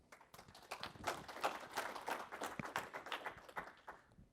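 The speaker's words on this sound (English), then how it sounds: "please a round of applause for Andy" A conference audience gives a round of applause for a speaker at a Nagios event, a quiet but busy patter of many hands clapping at a distance for about four seconds.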